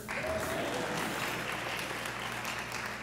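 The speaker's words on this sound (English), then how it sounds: "You can all cheer." Alumni audience at a university class luncheon applauding and cheering, a steady dense wash of clapping filling the room throughout, fairly distant and even.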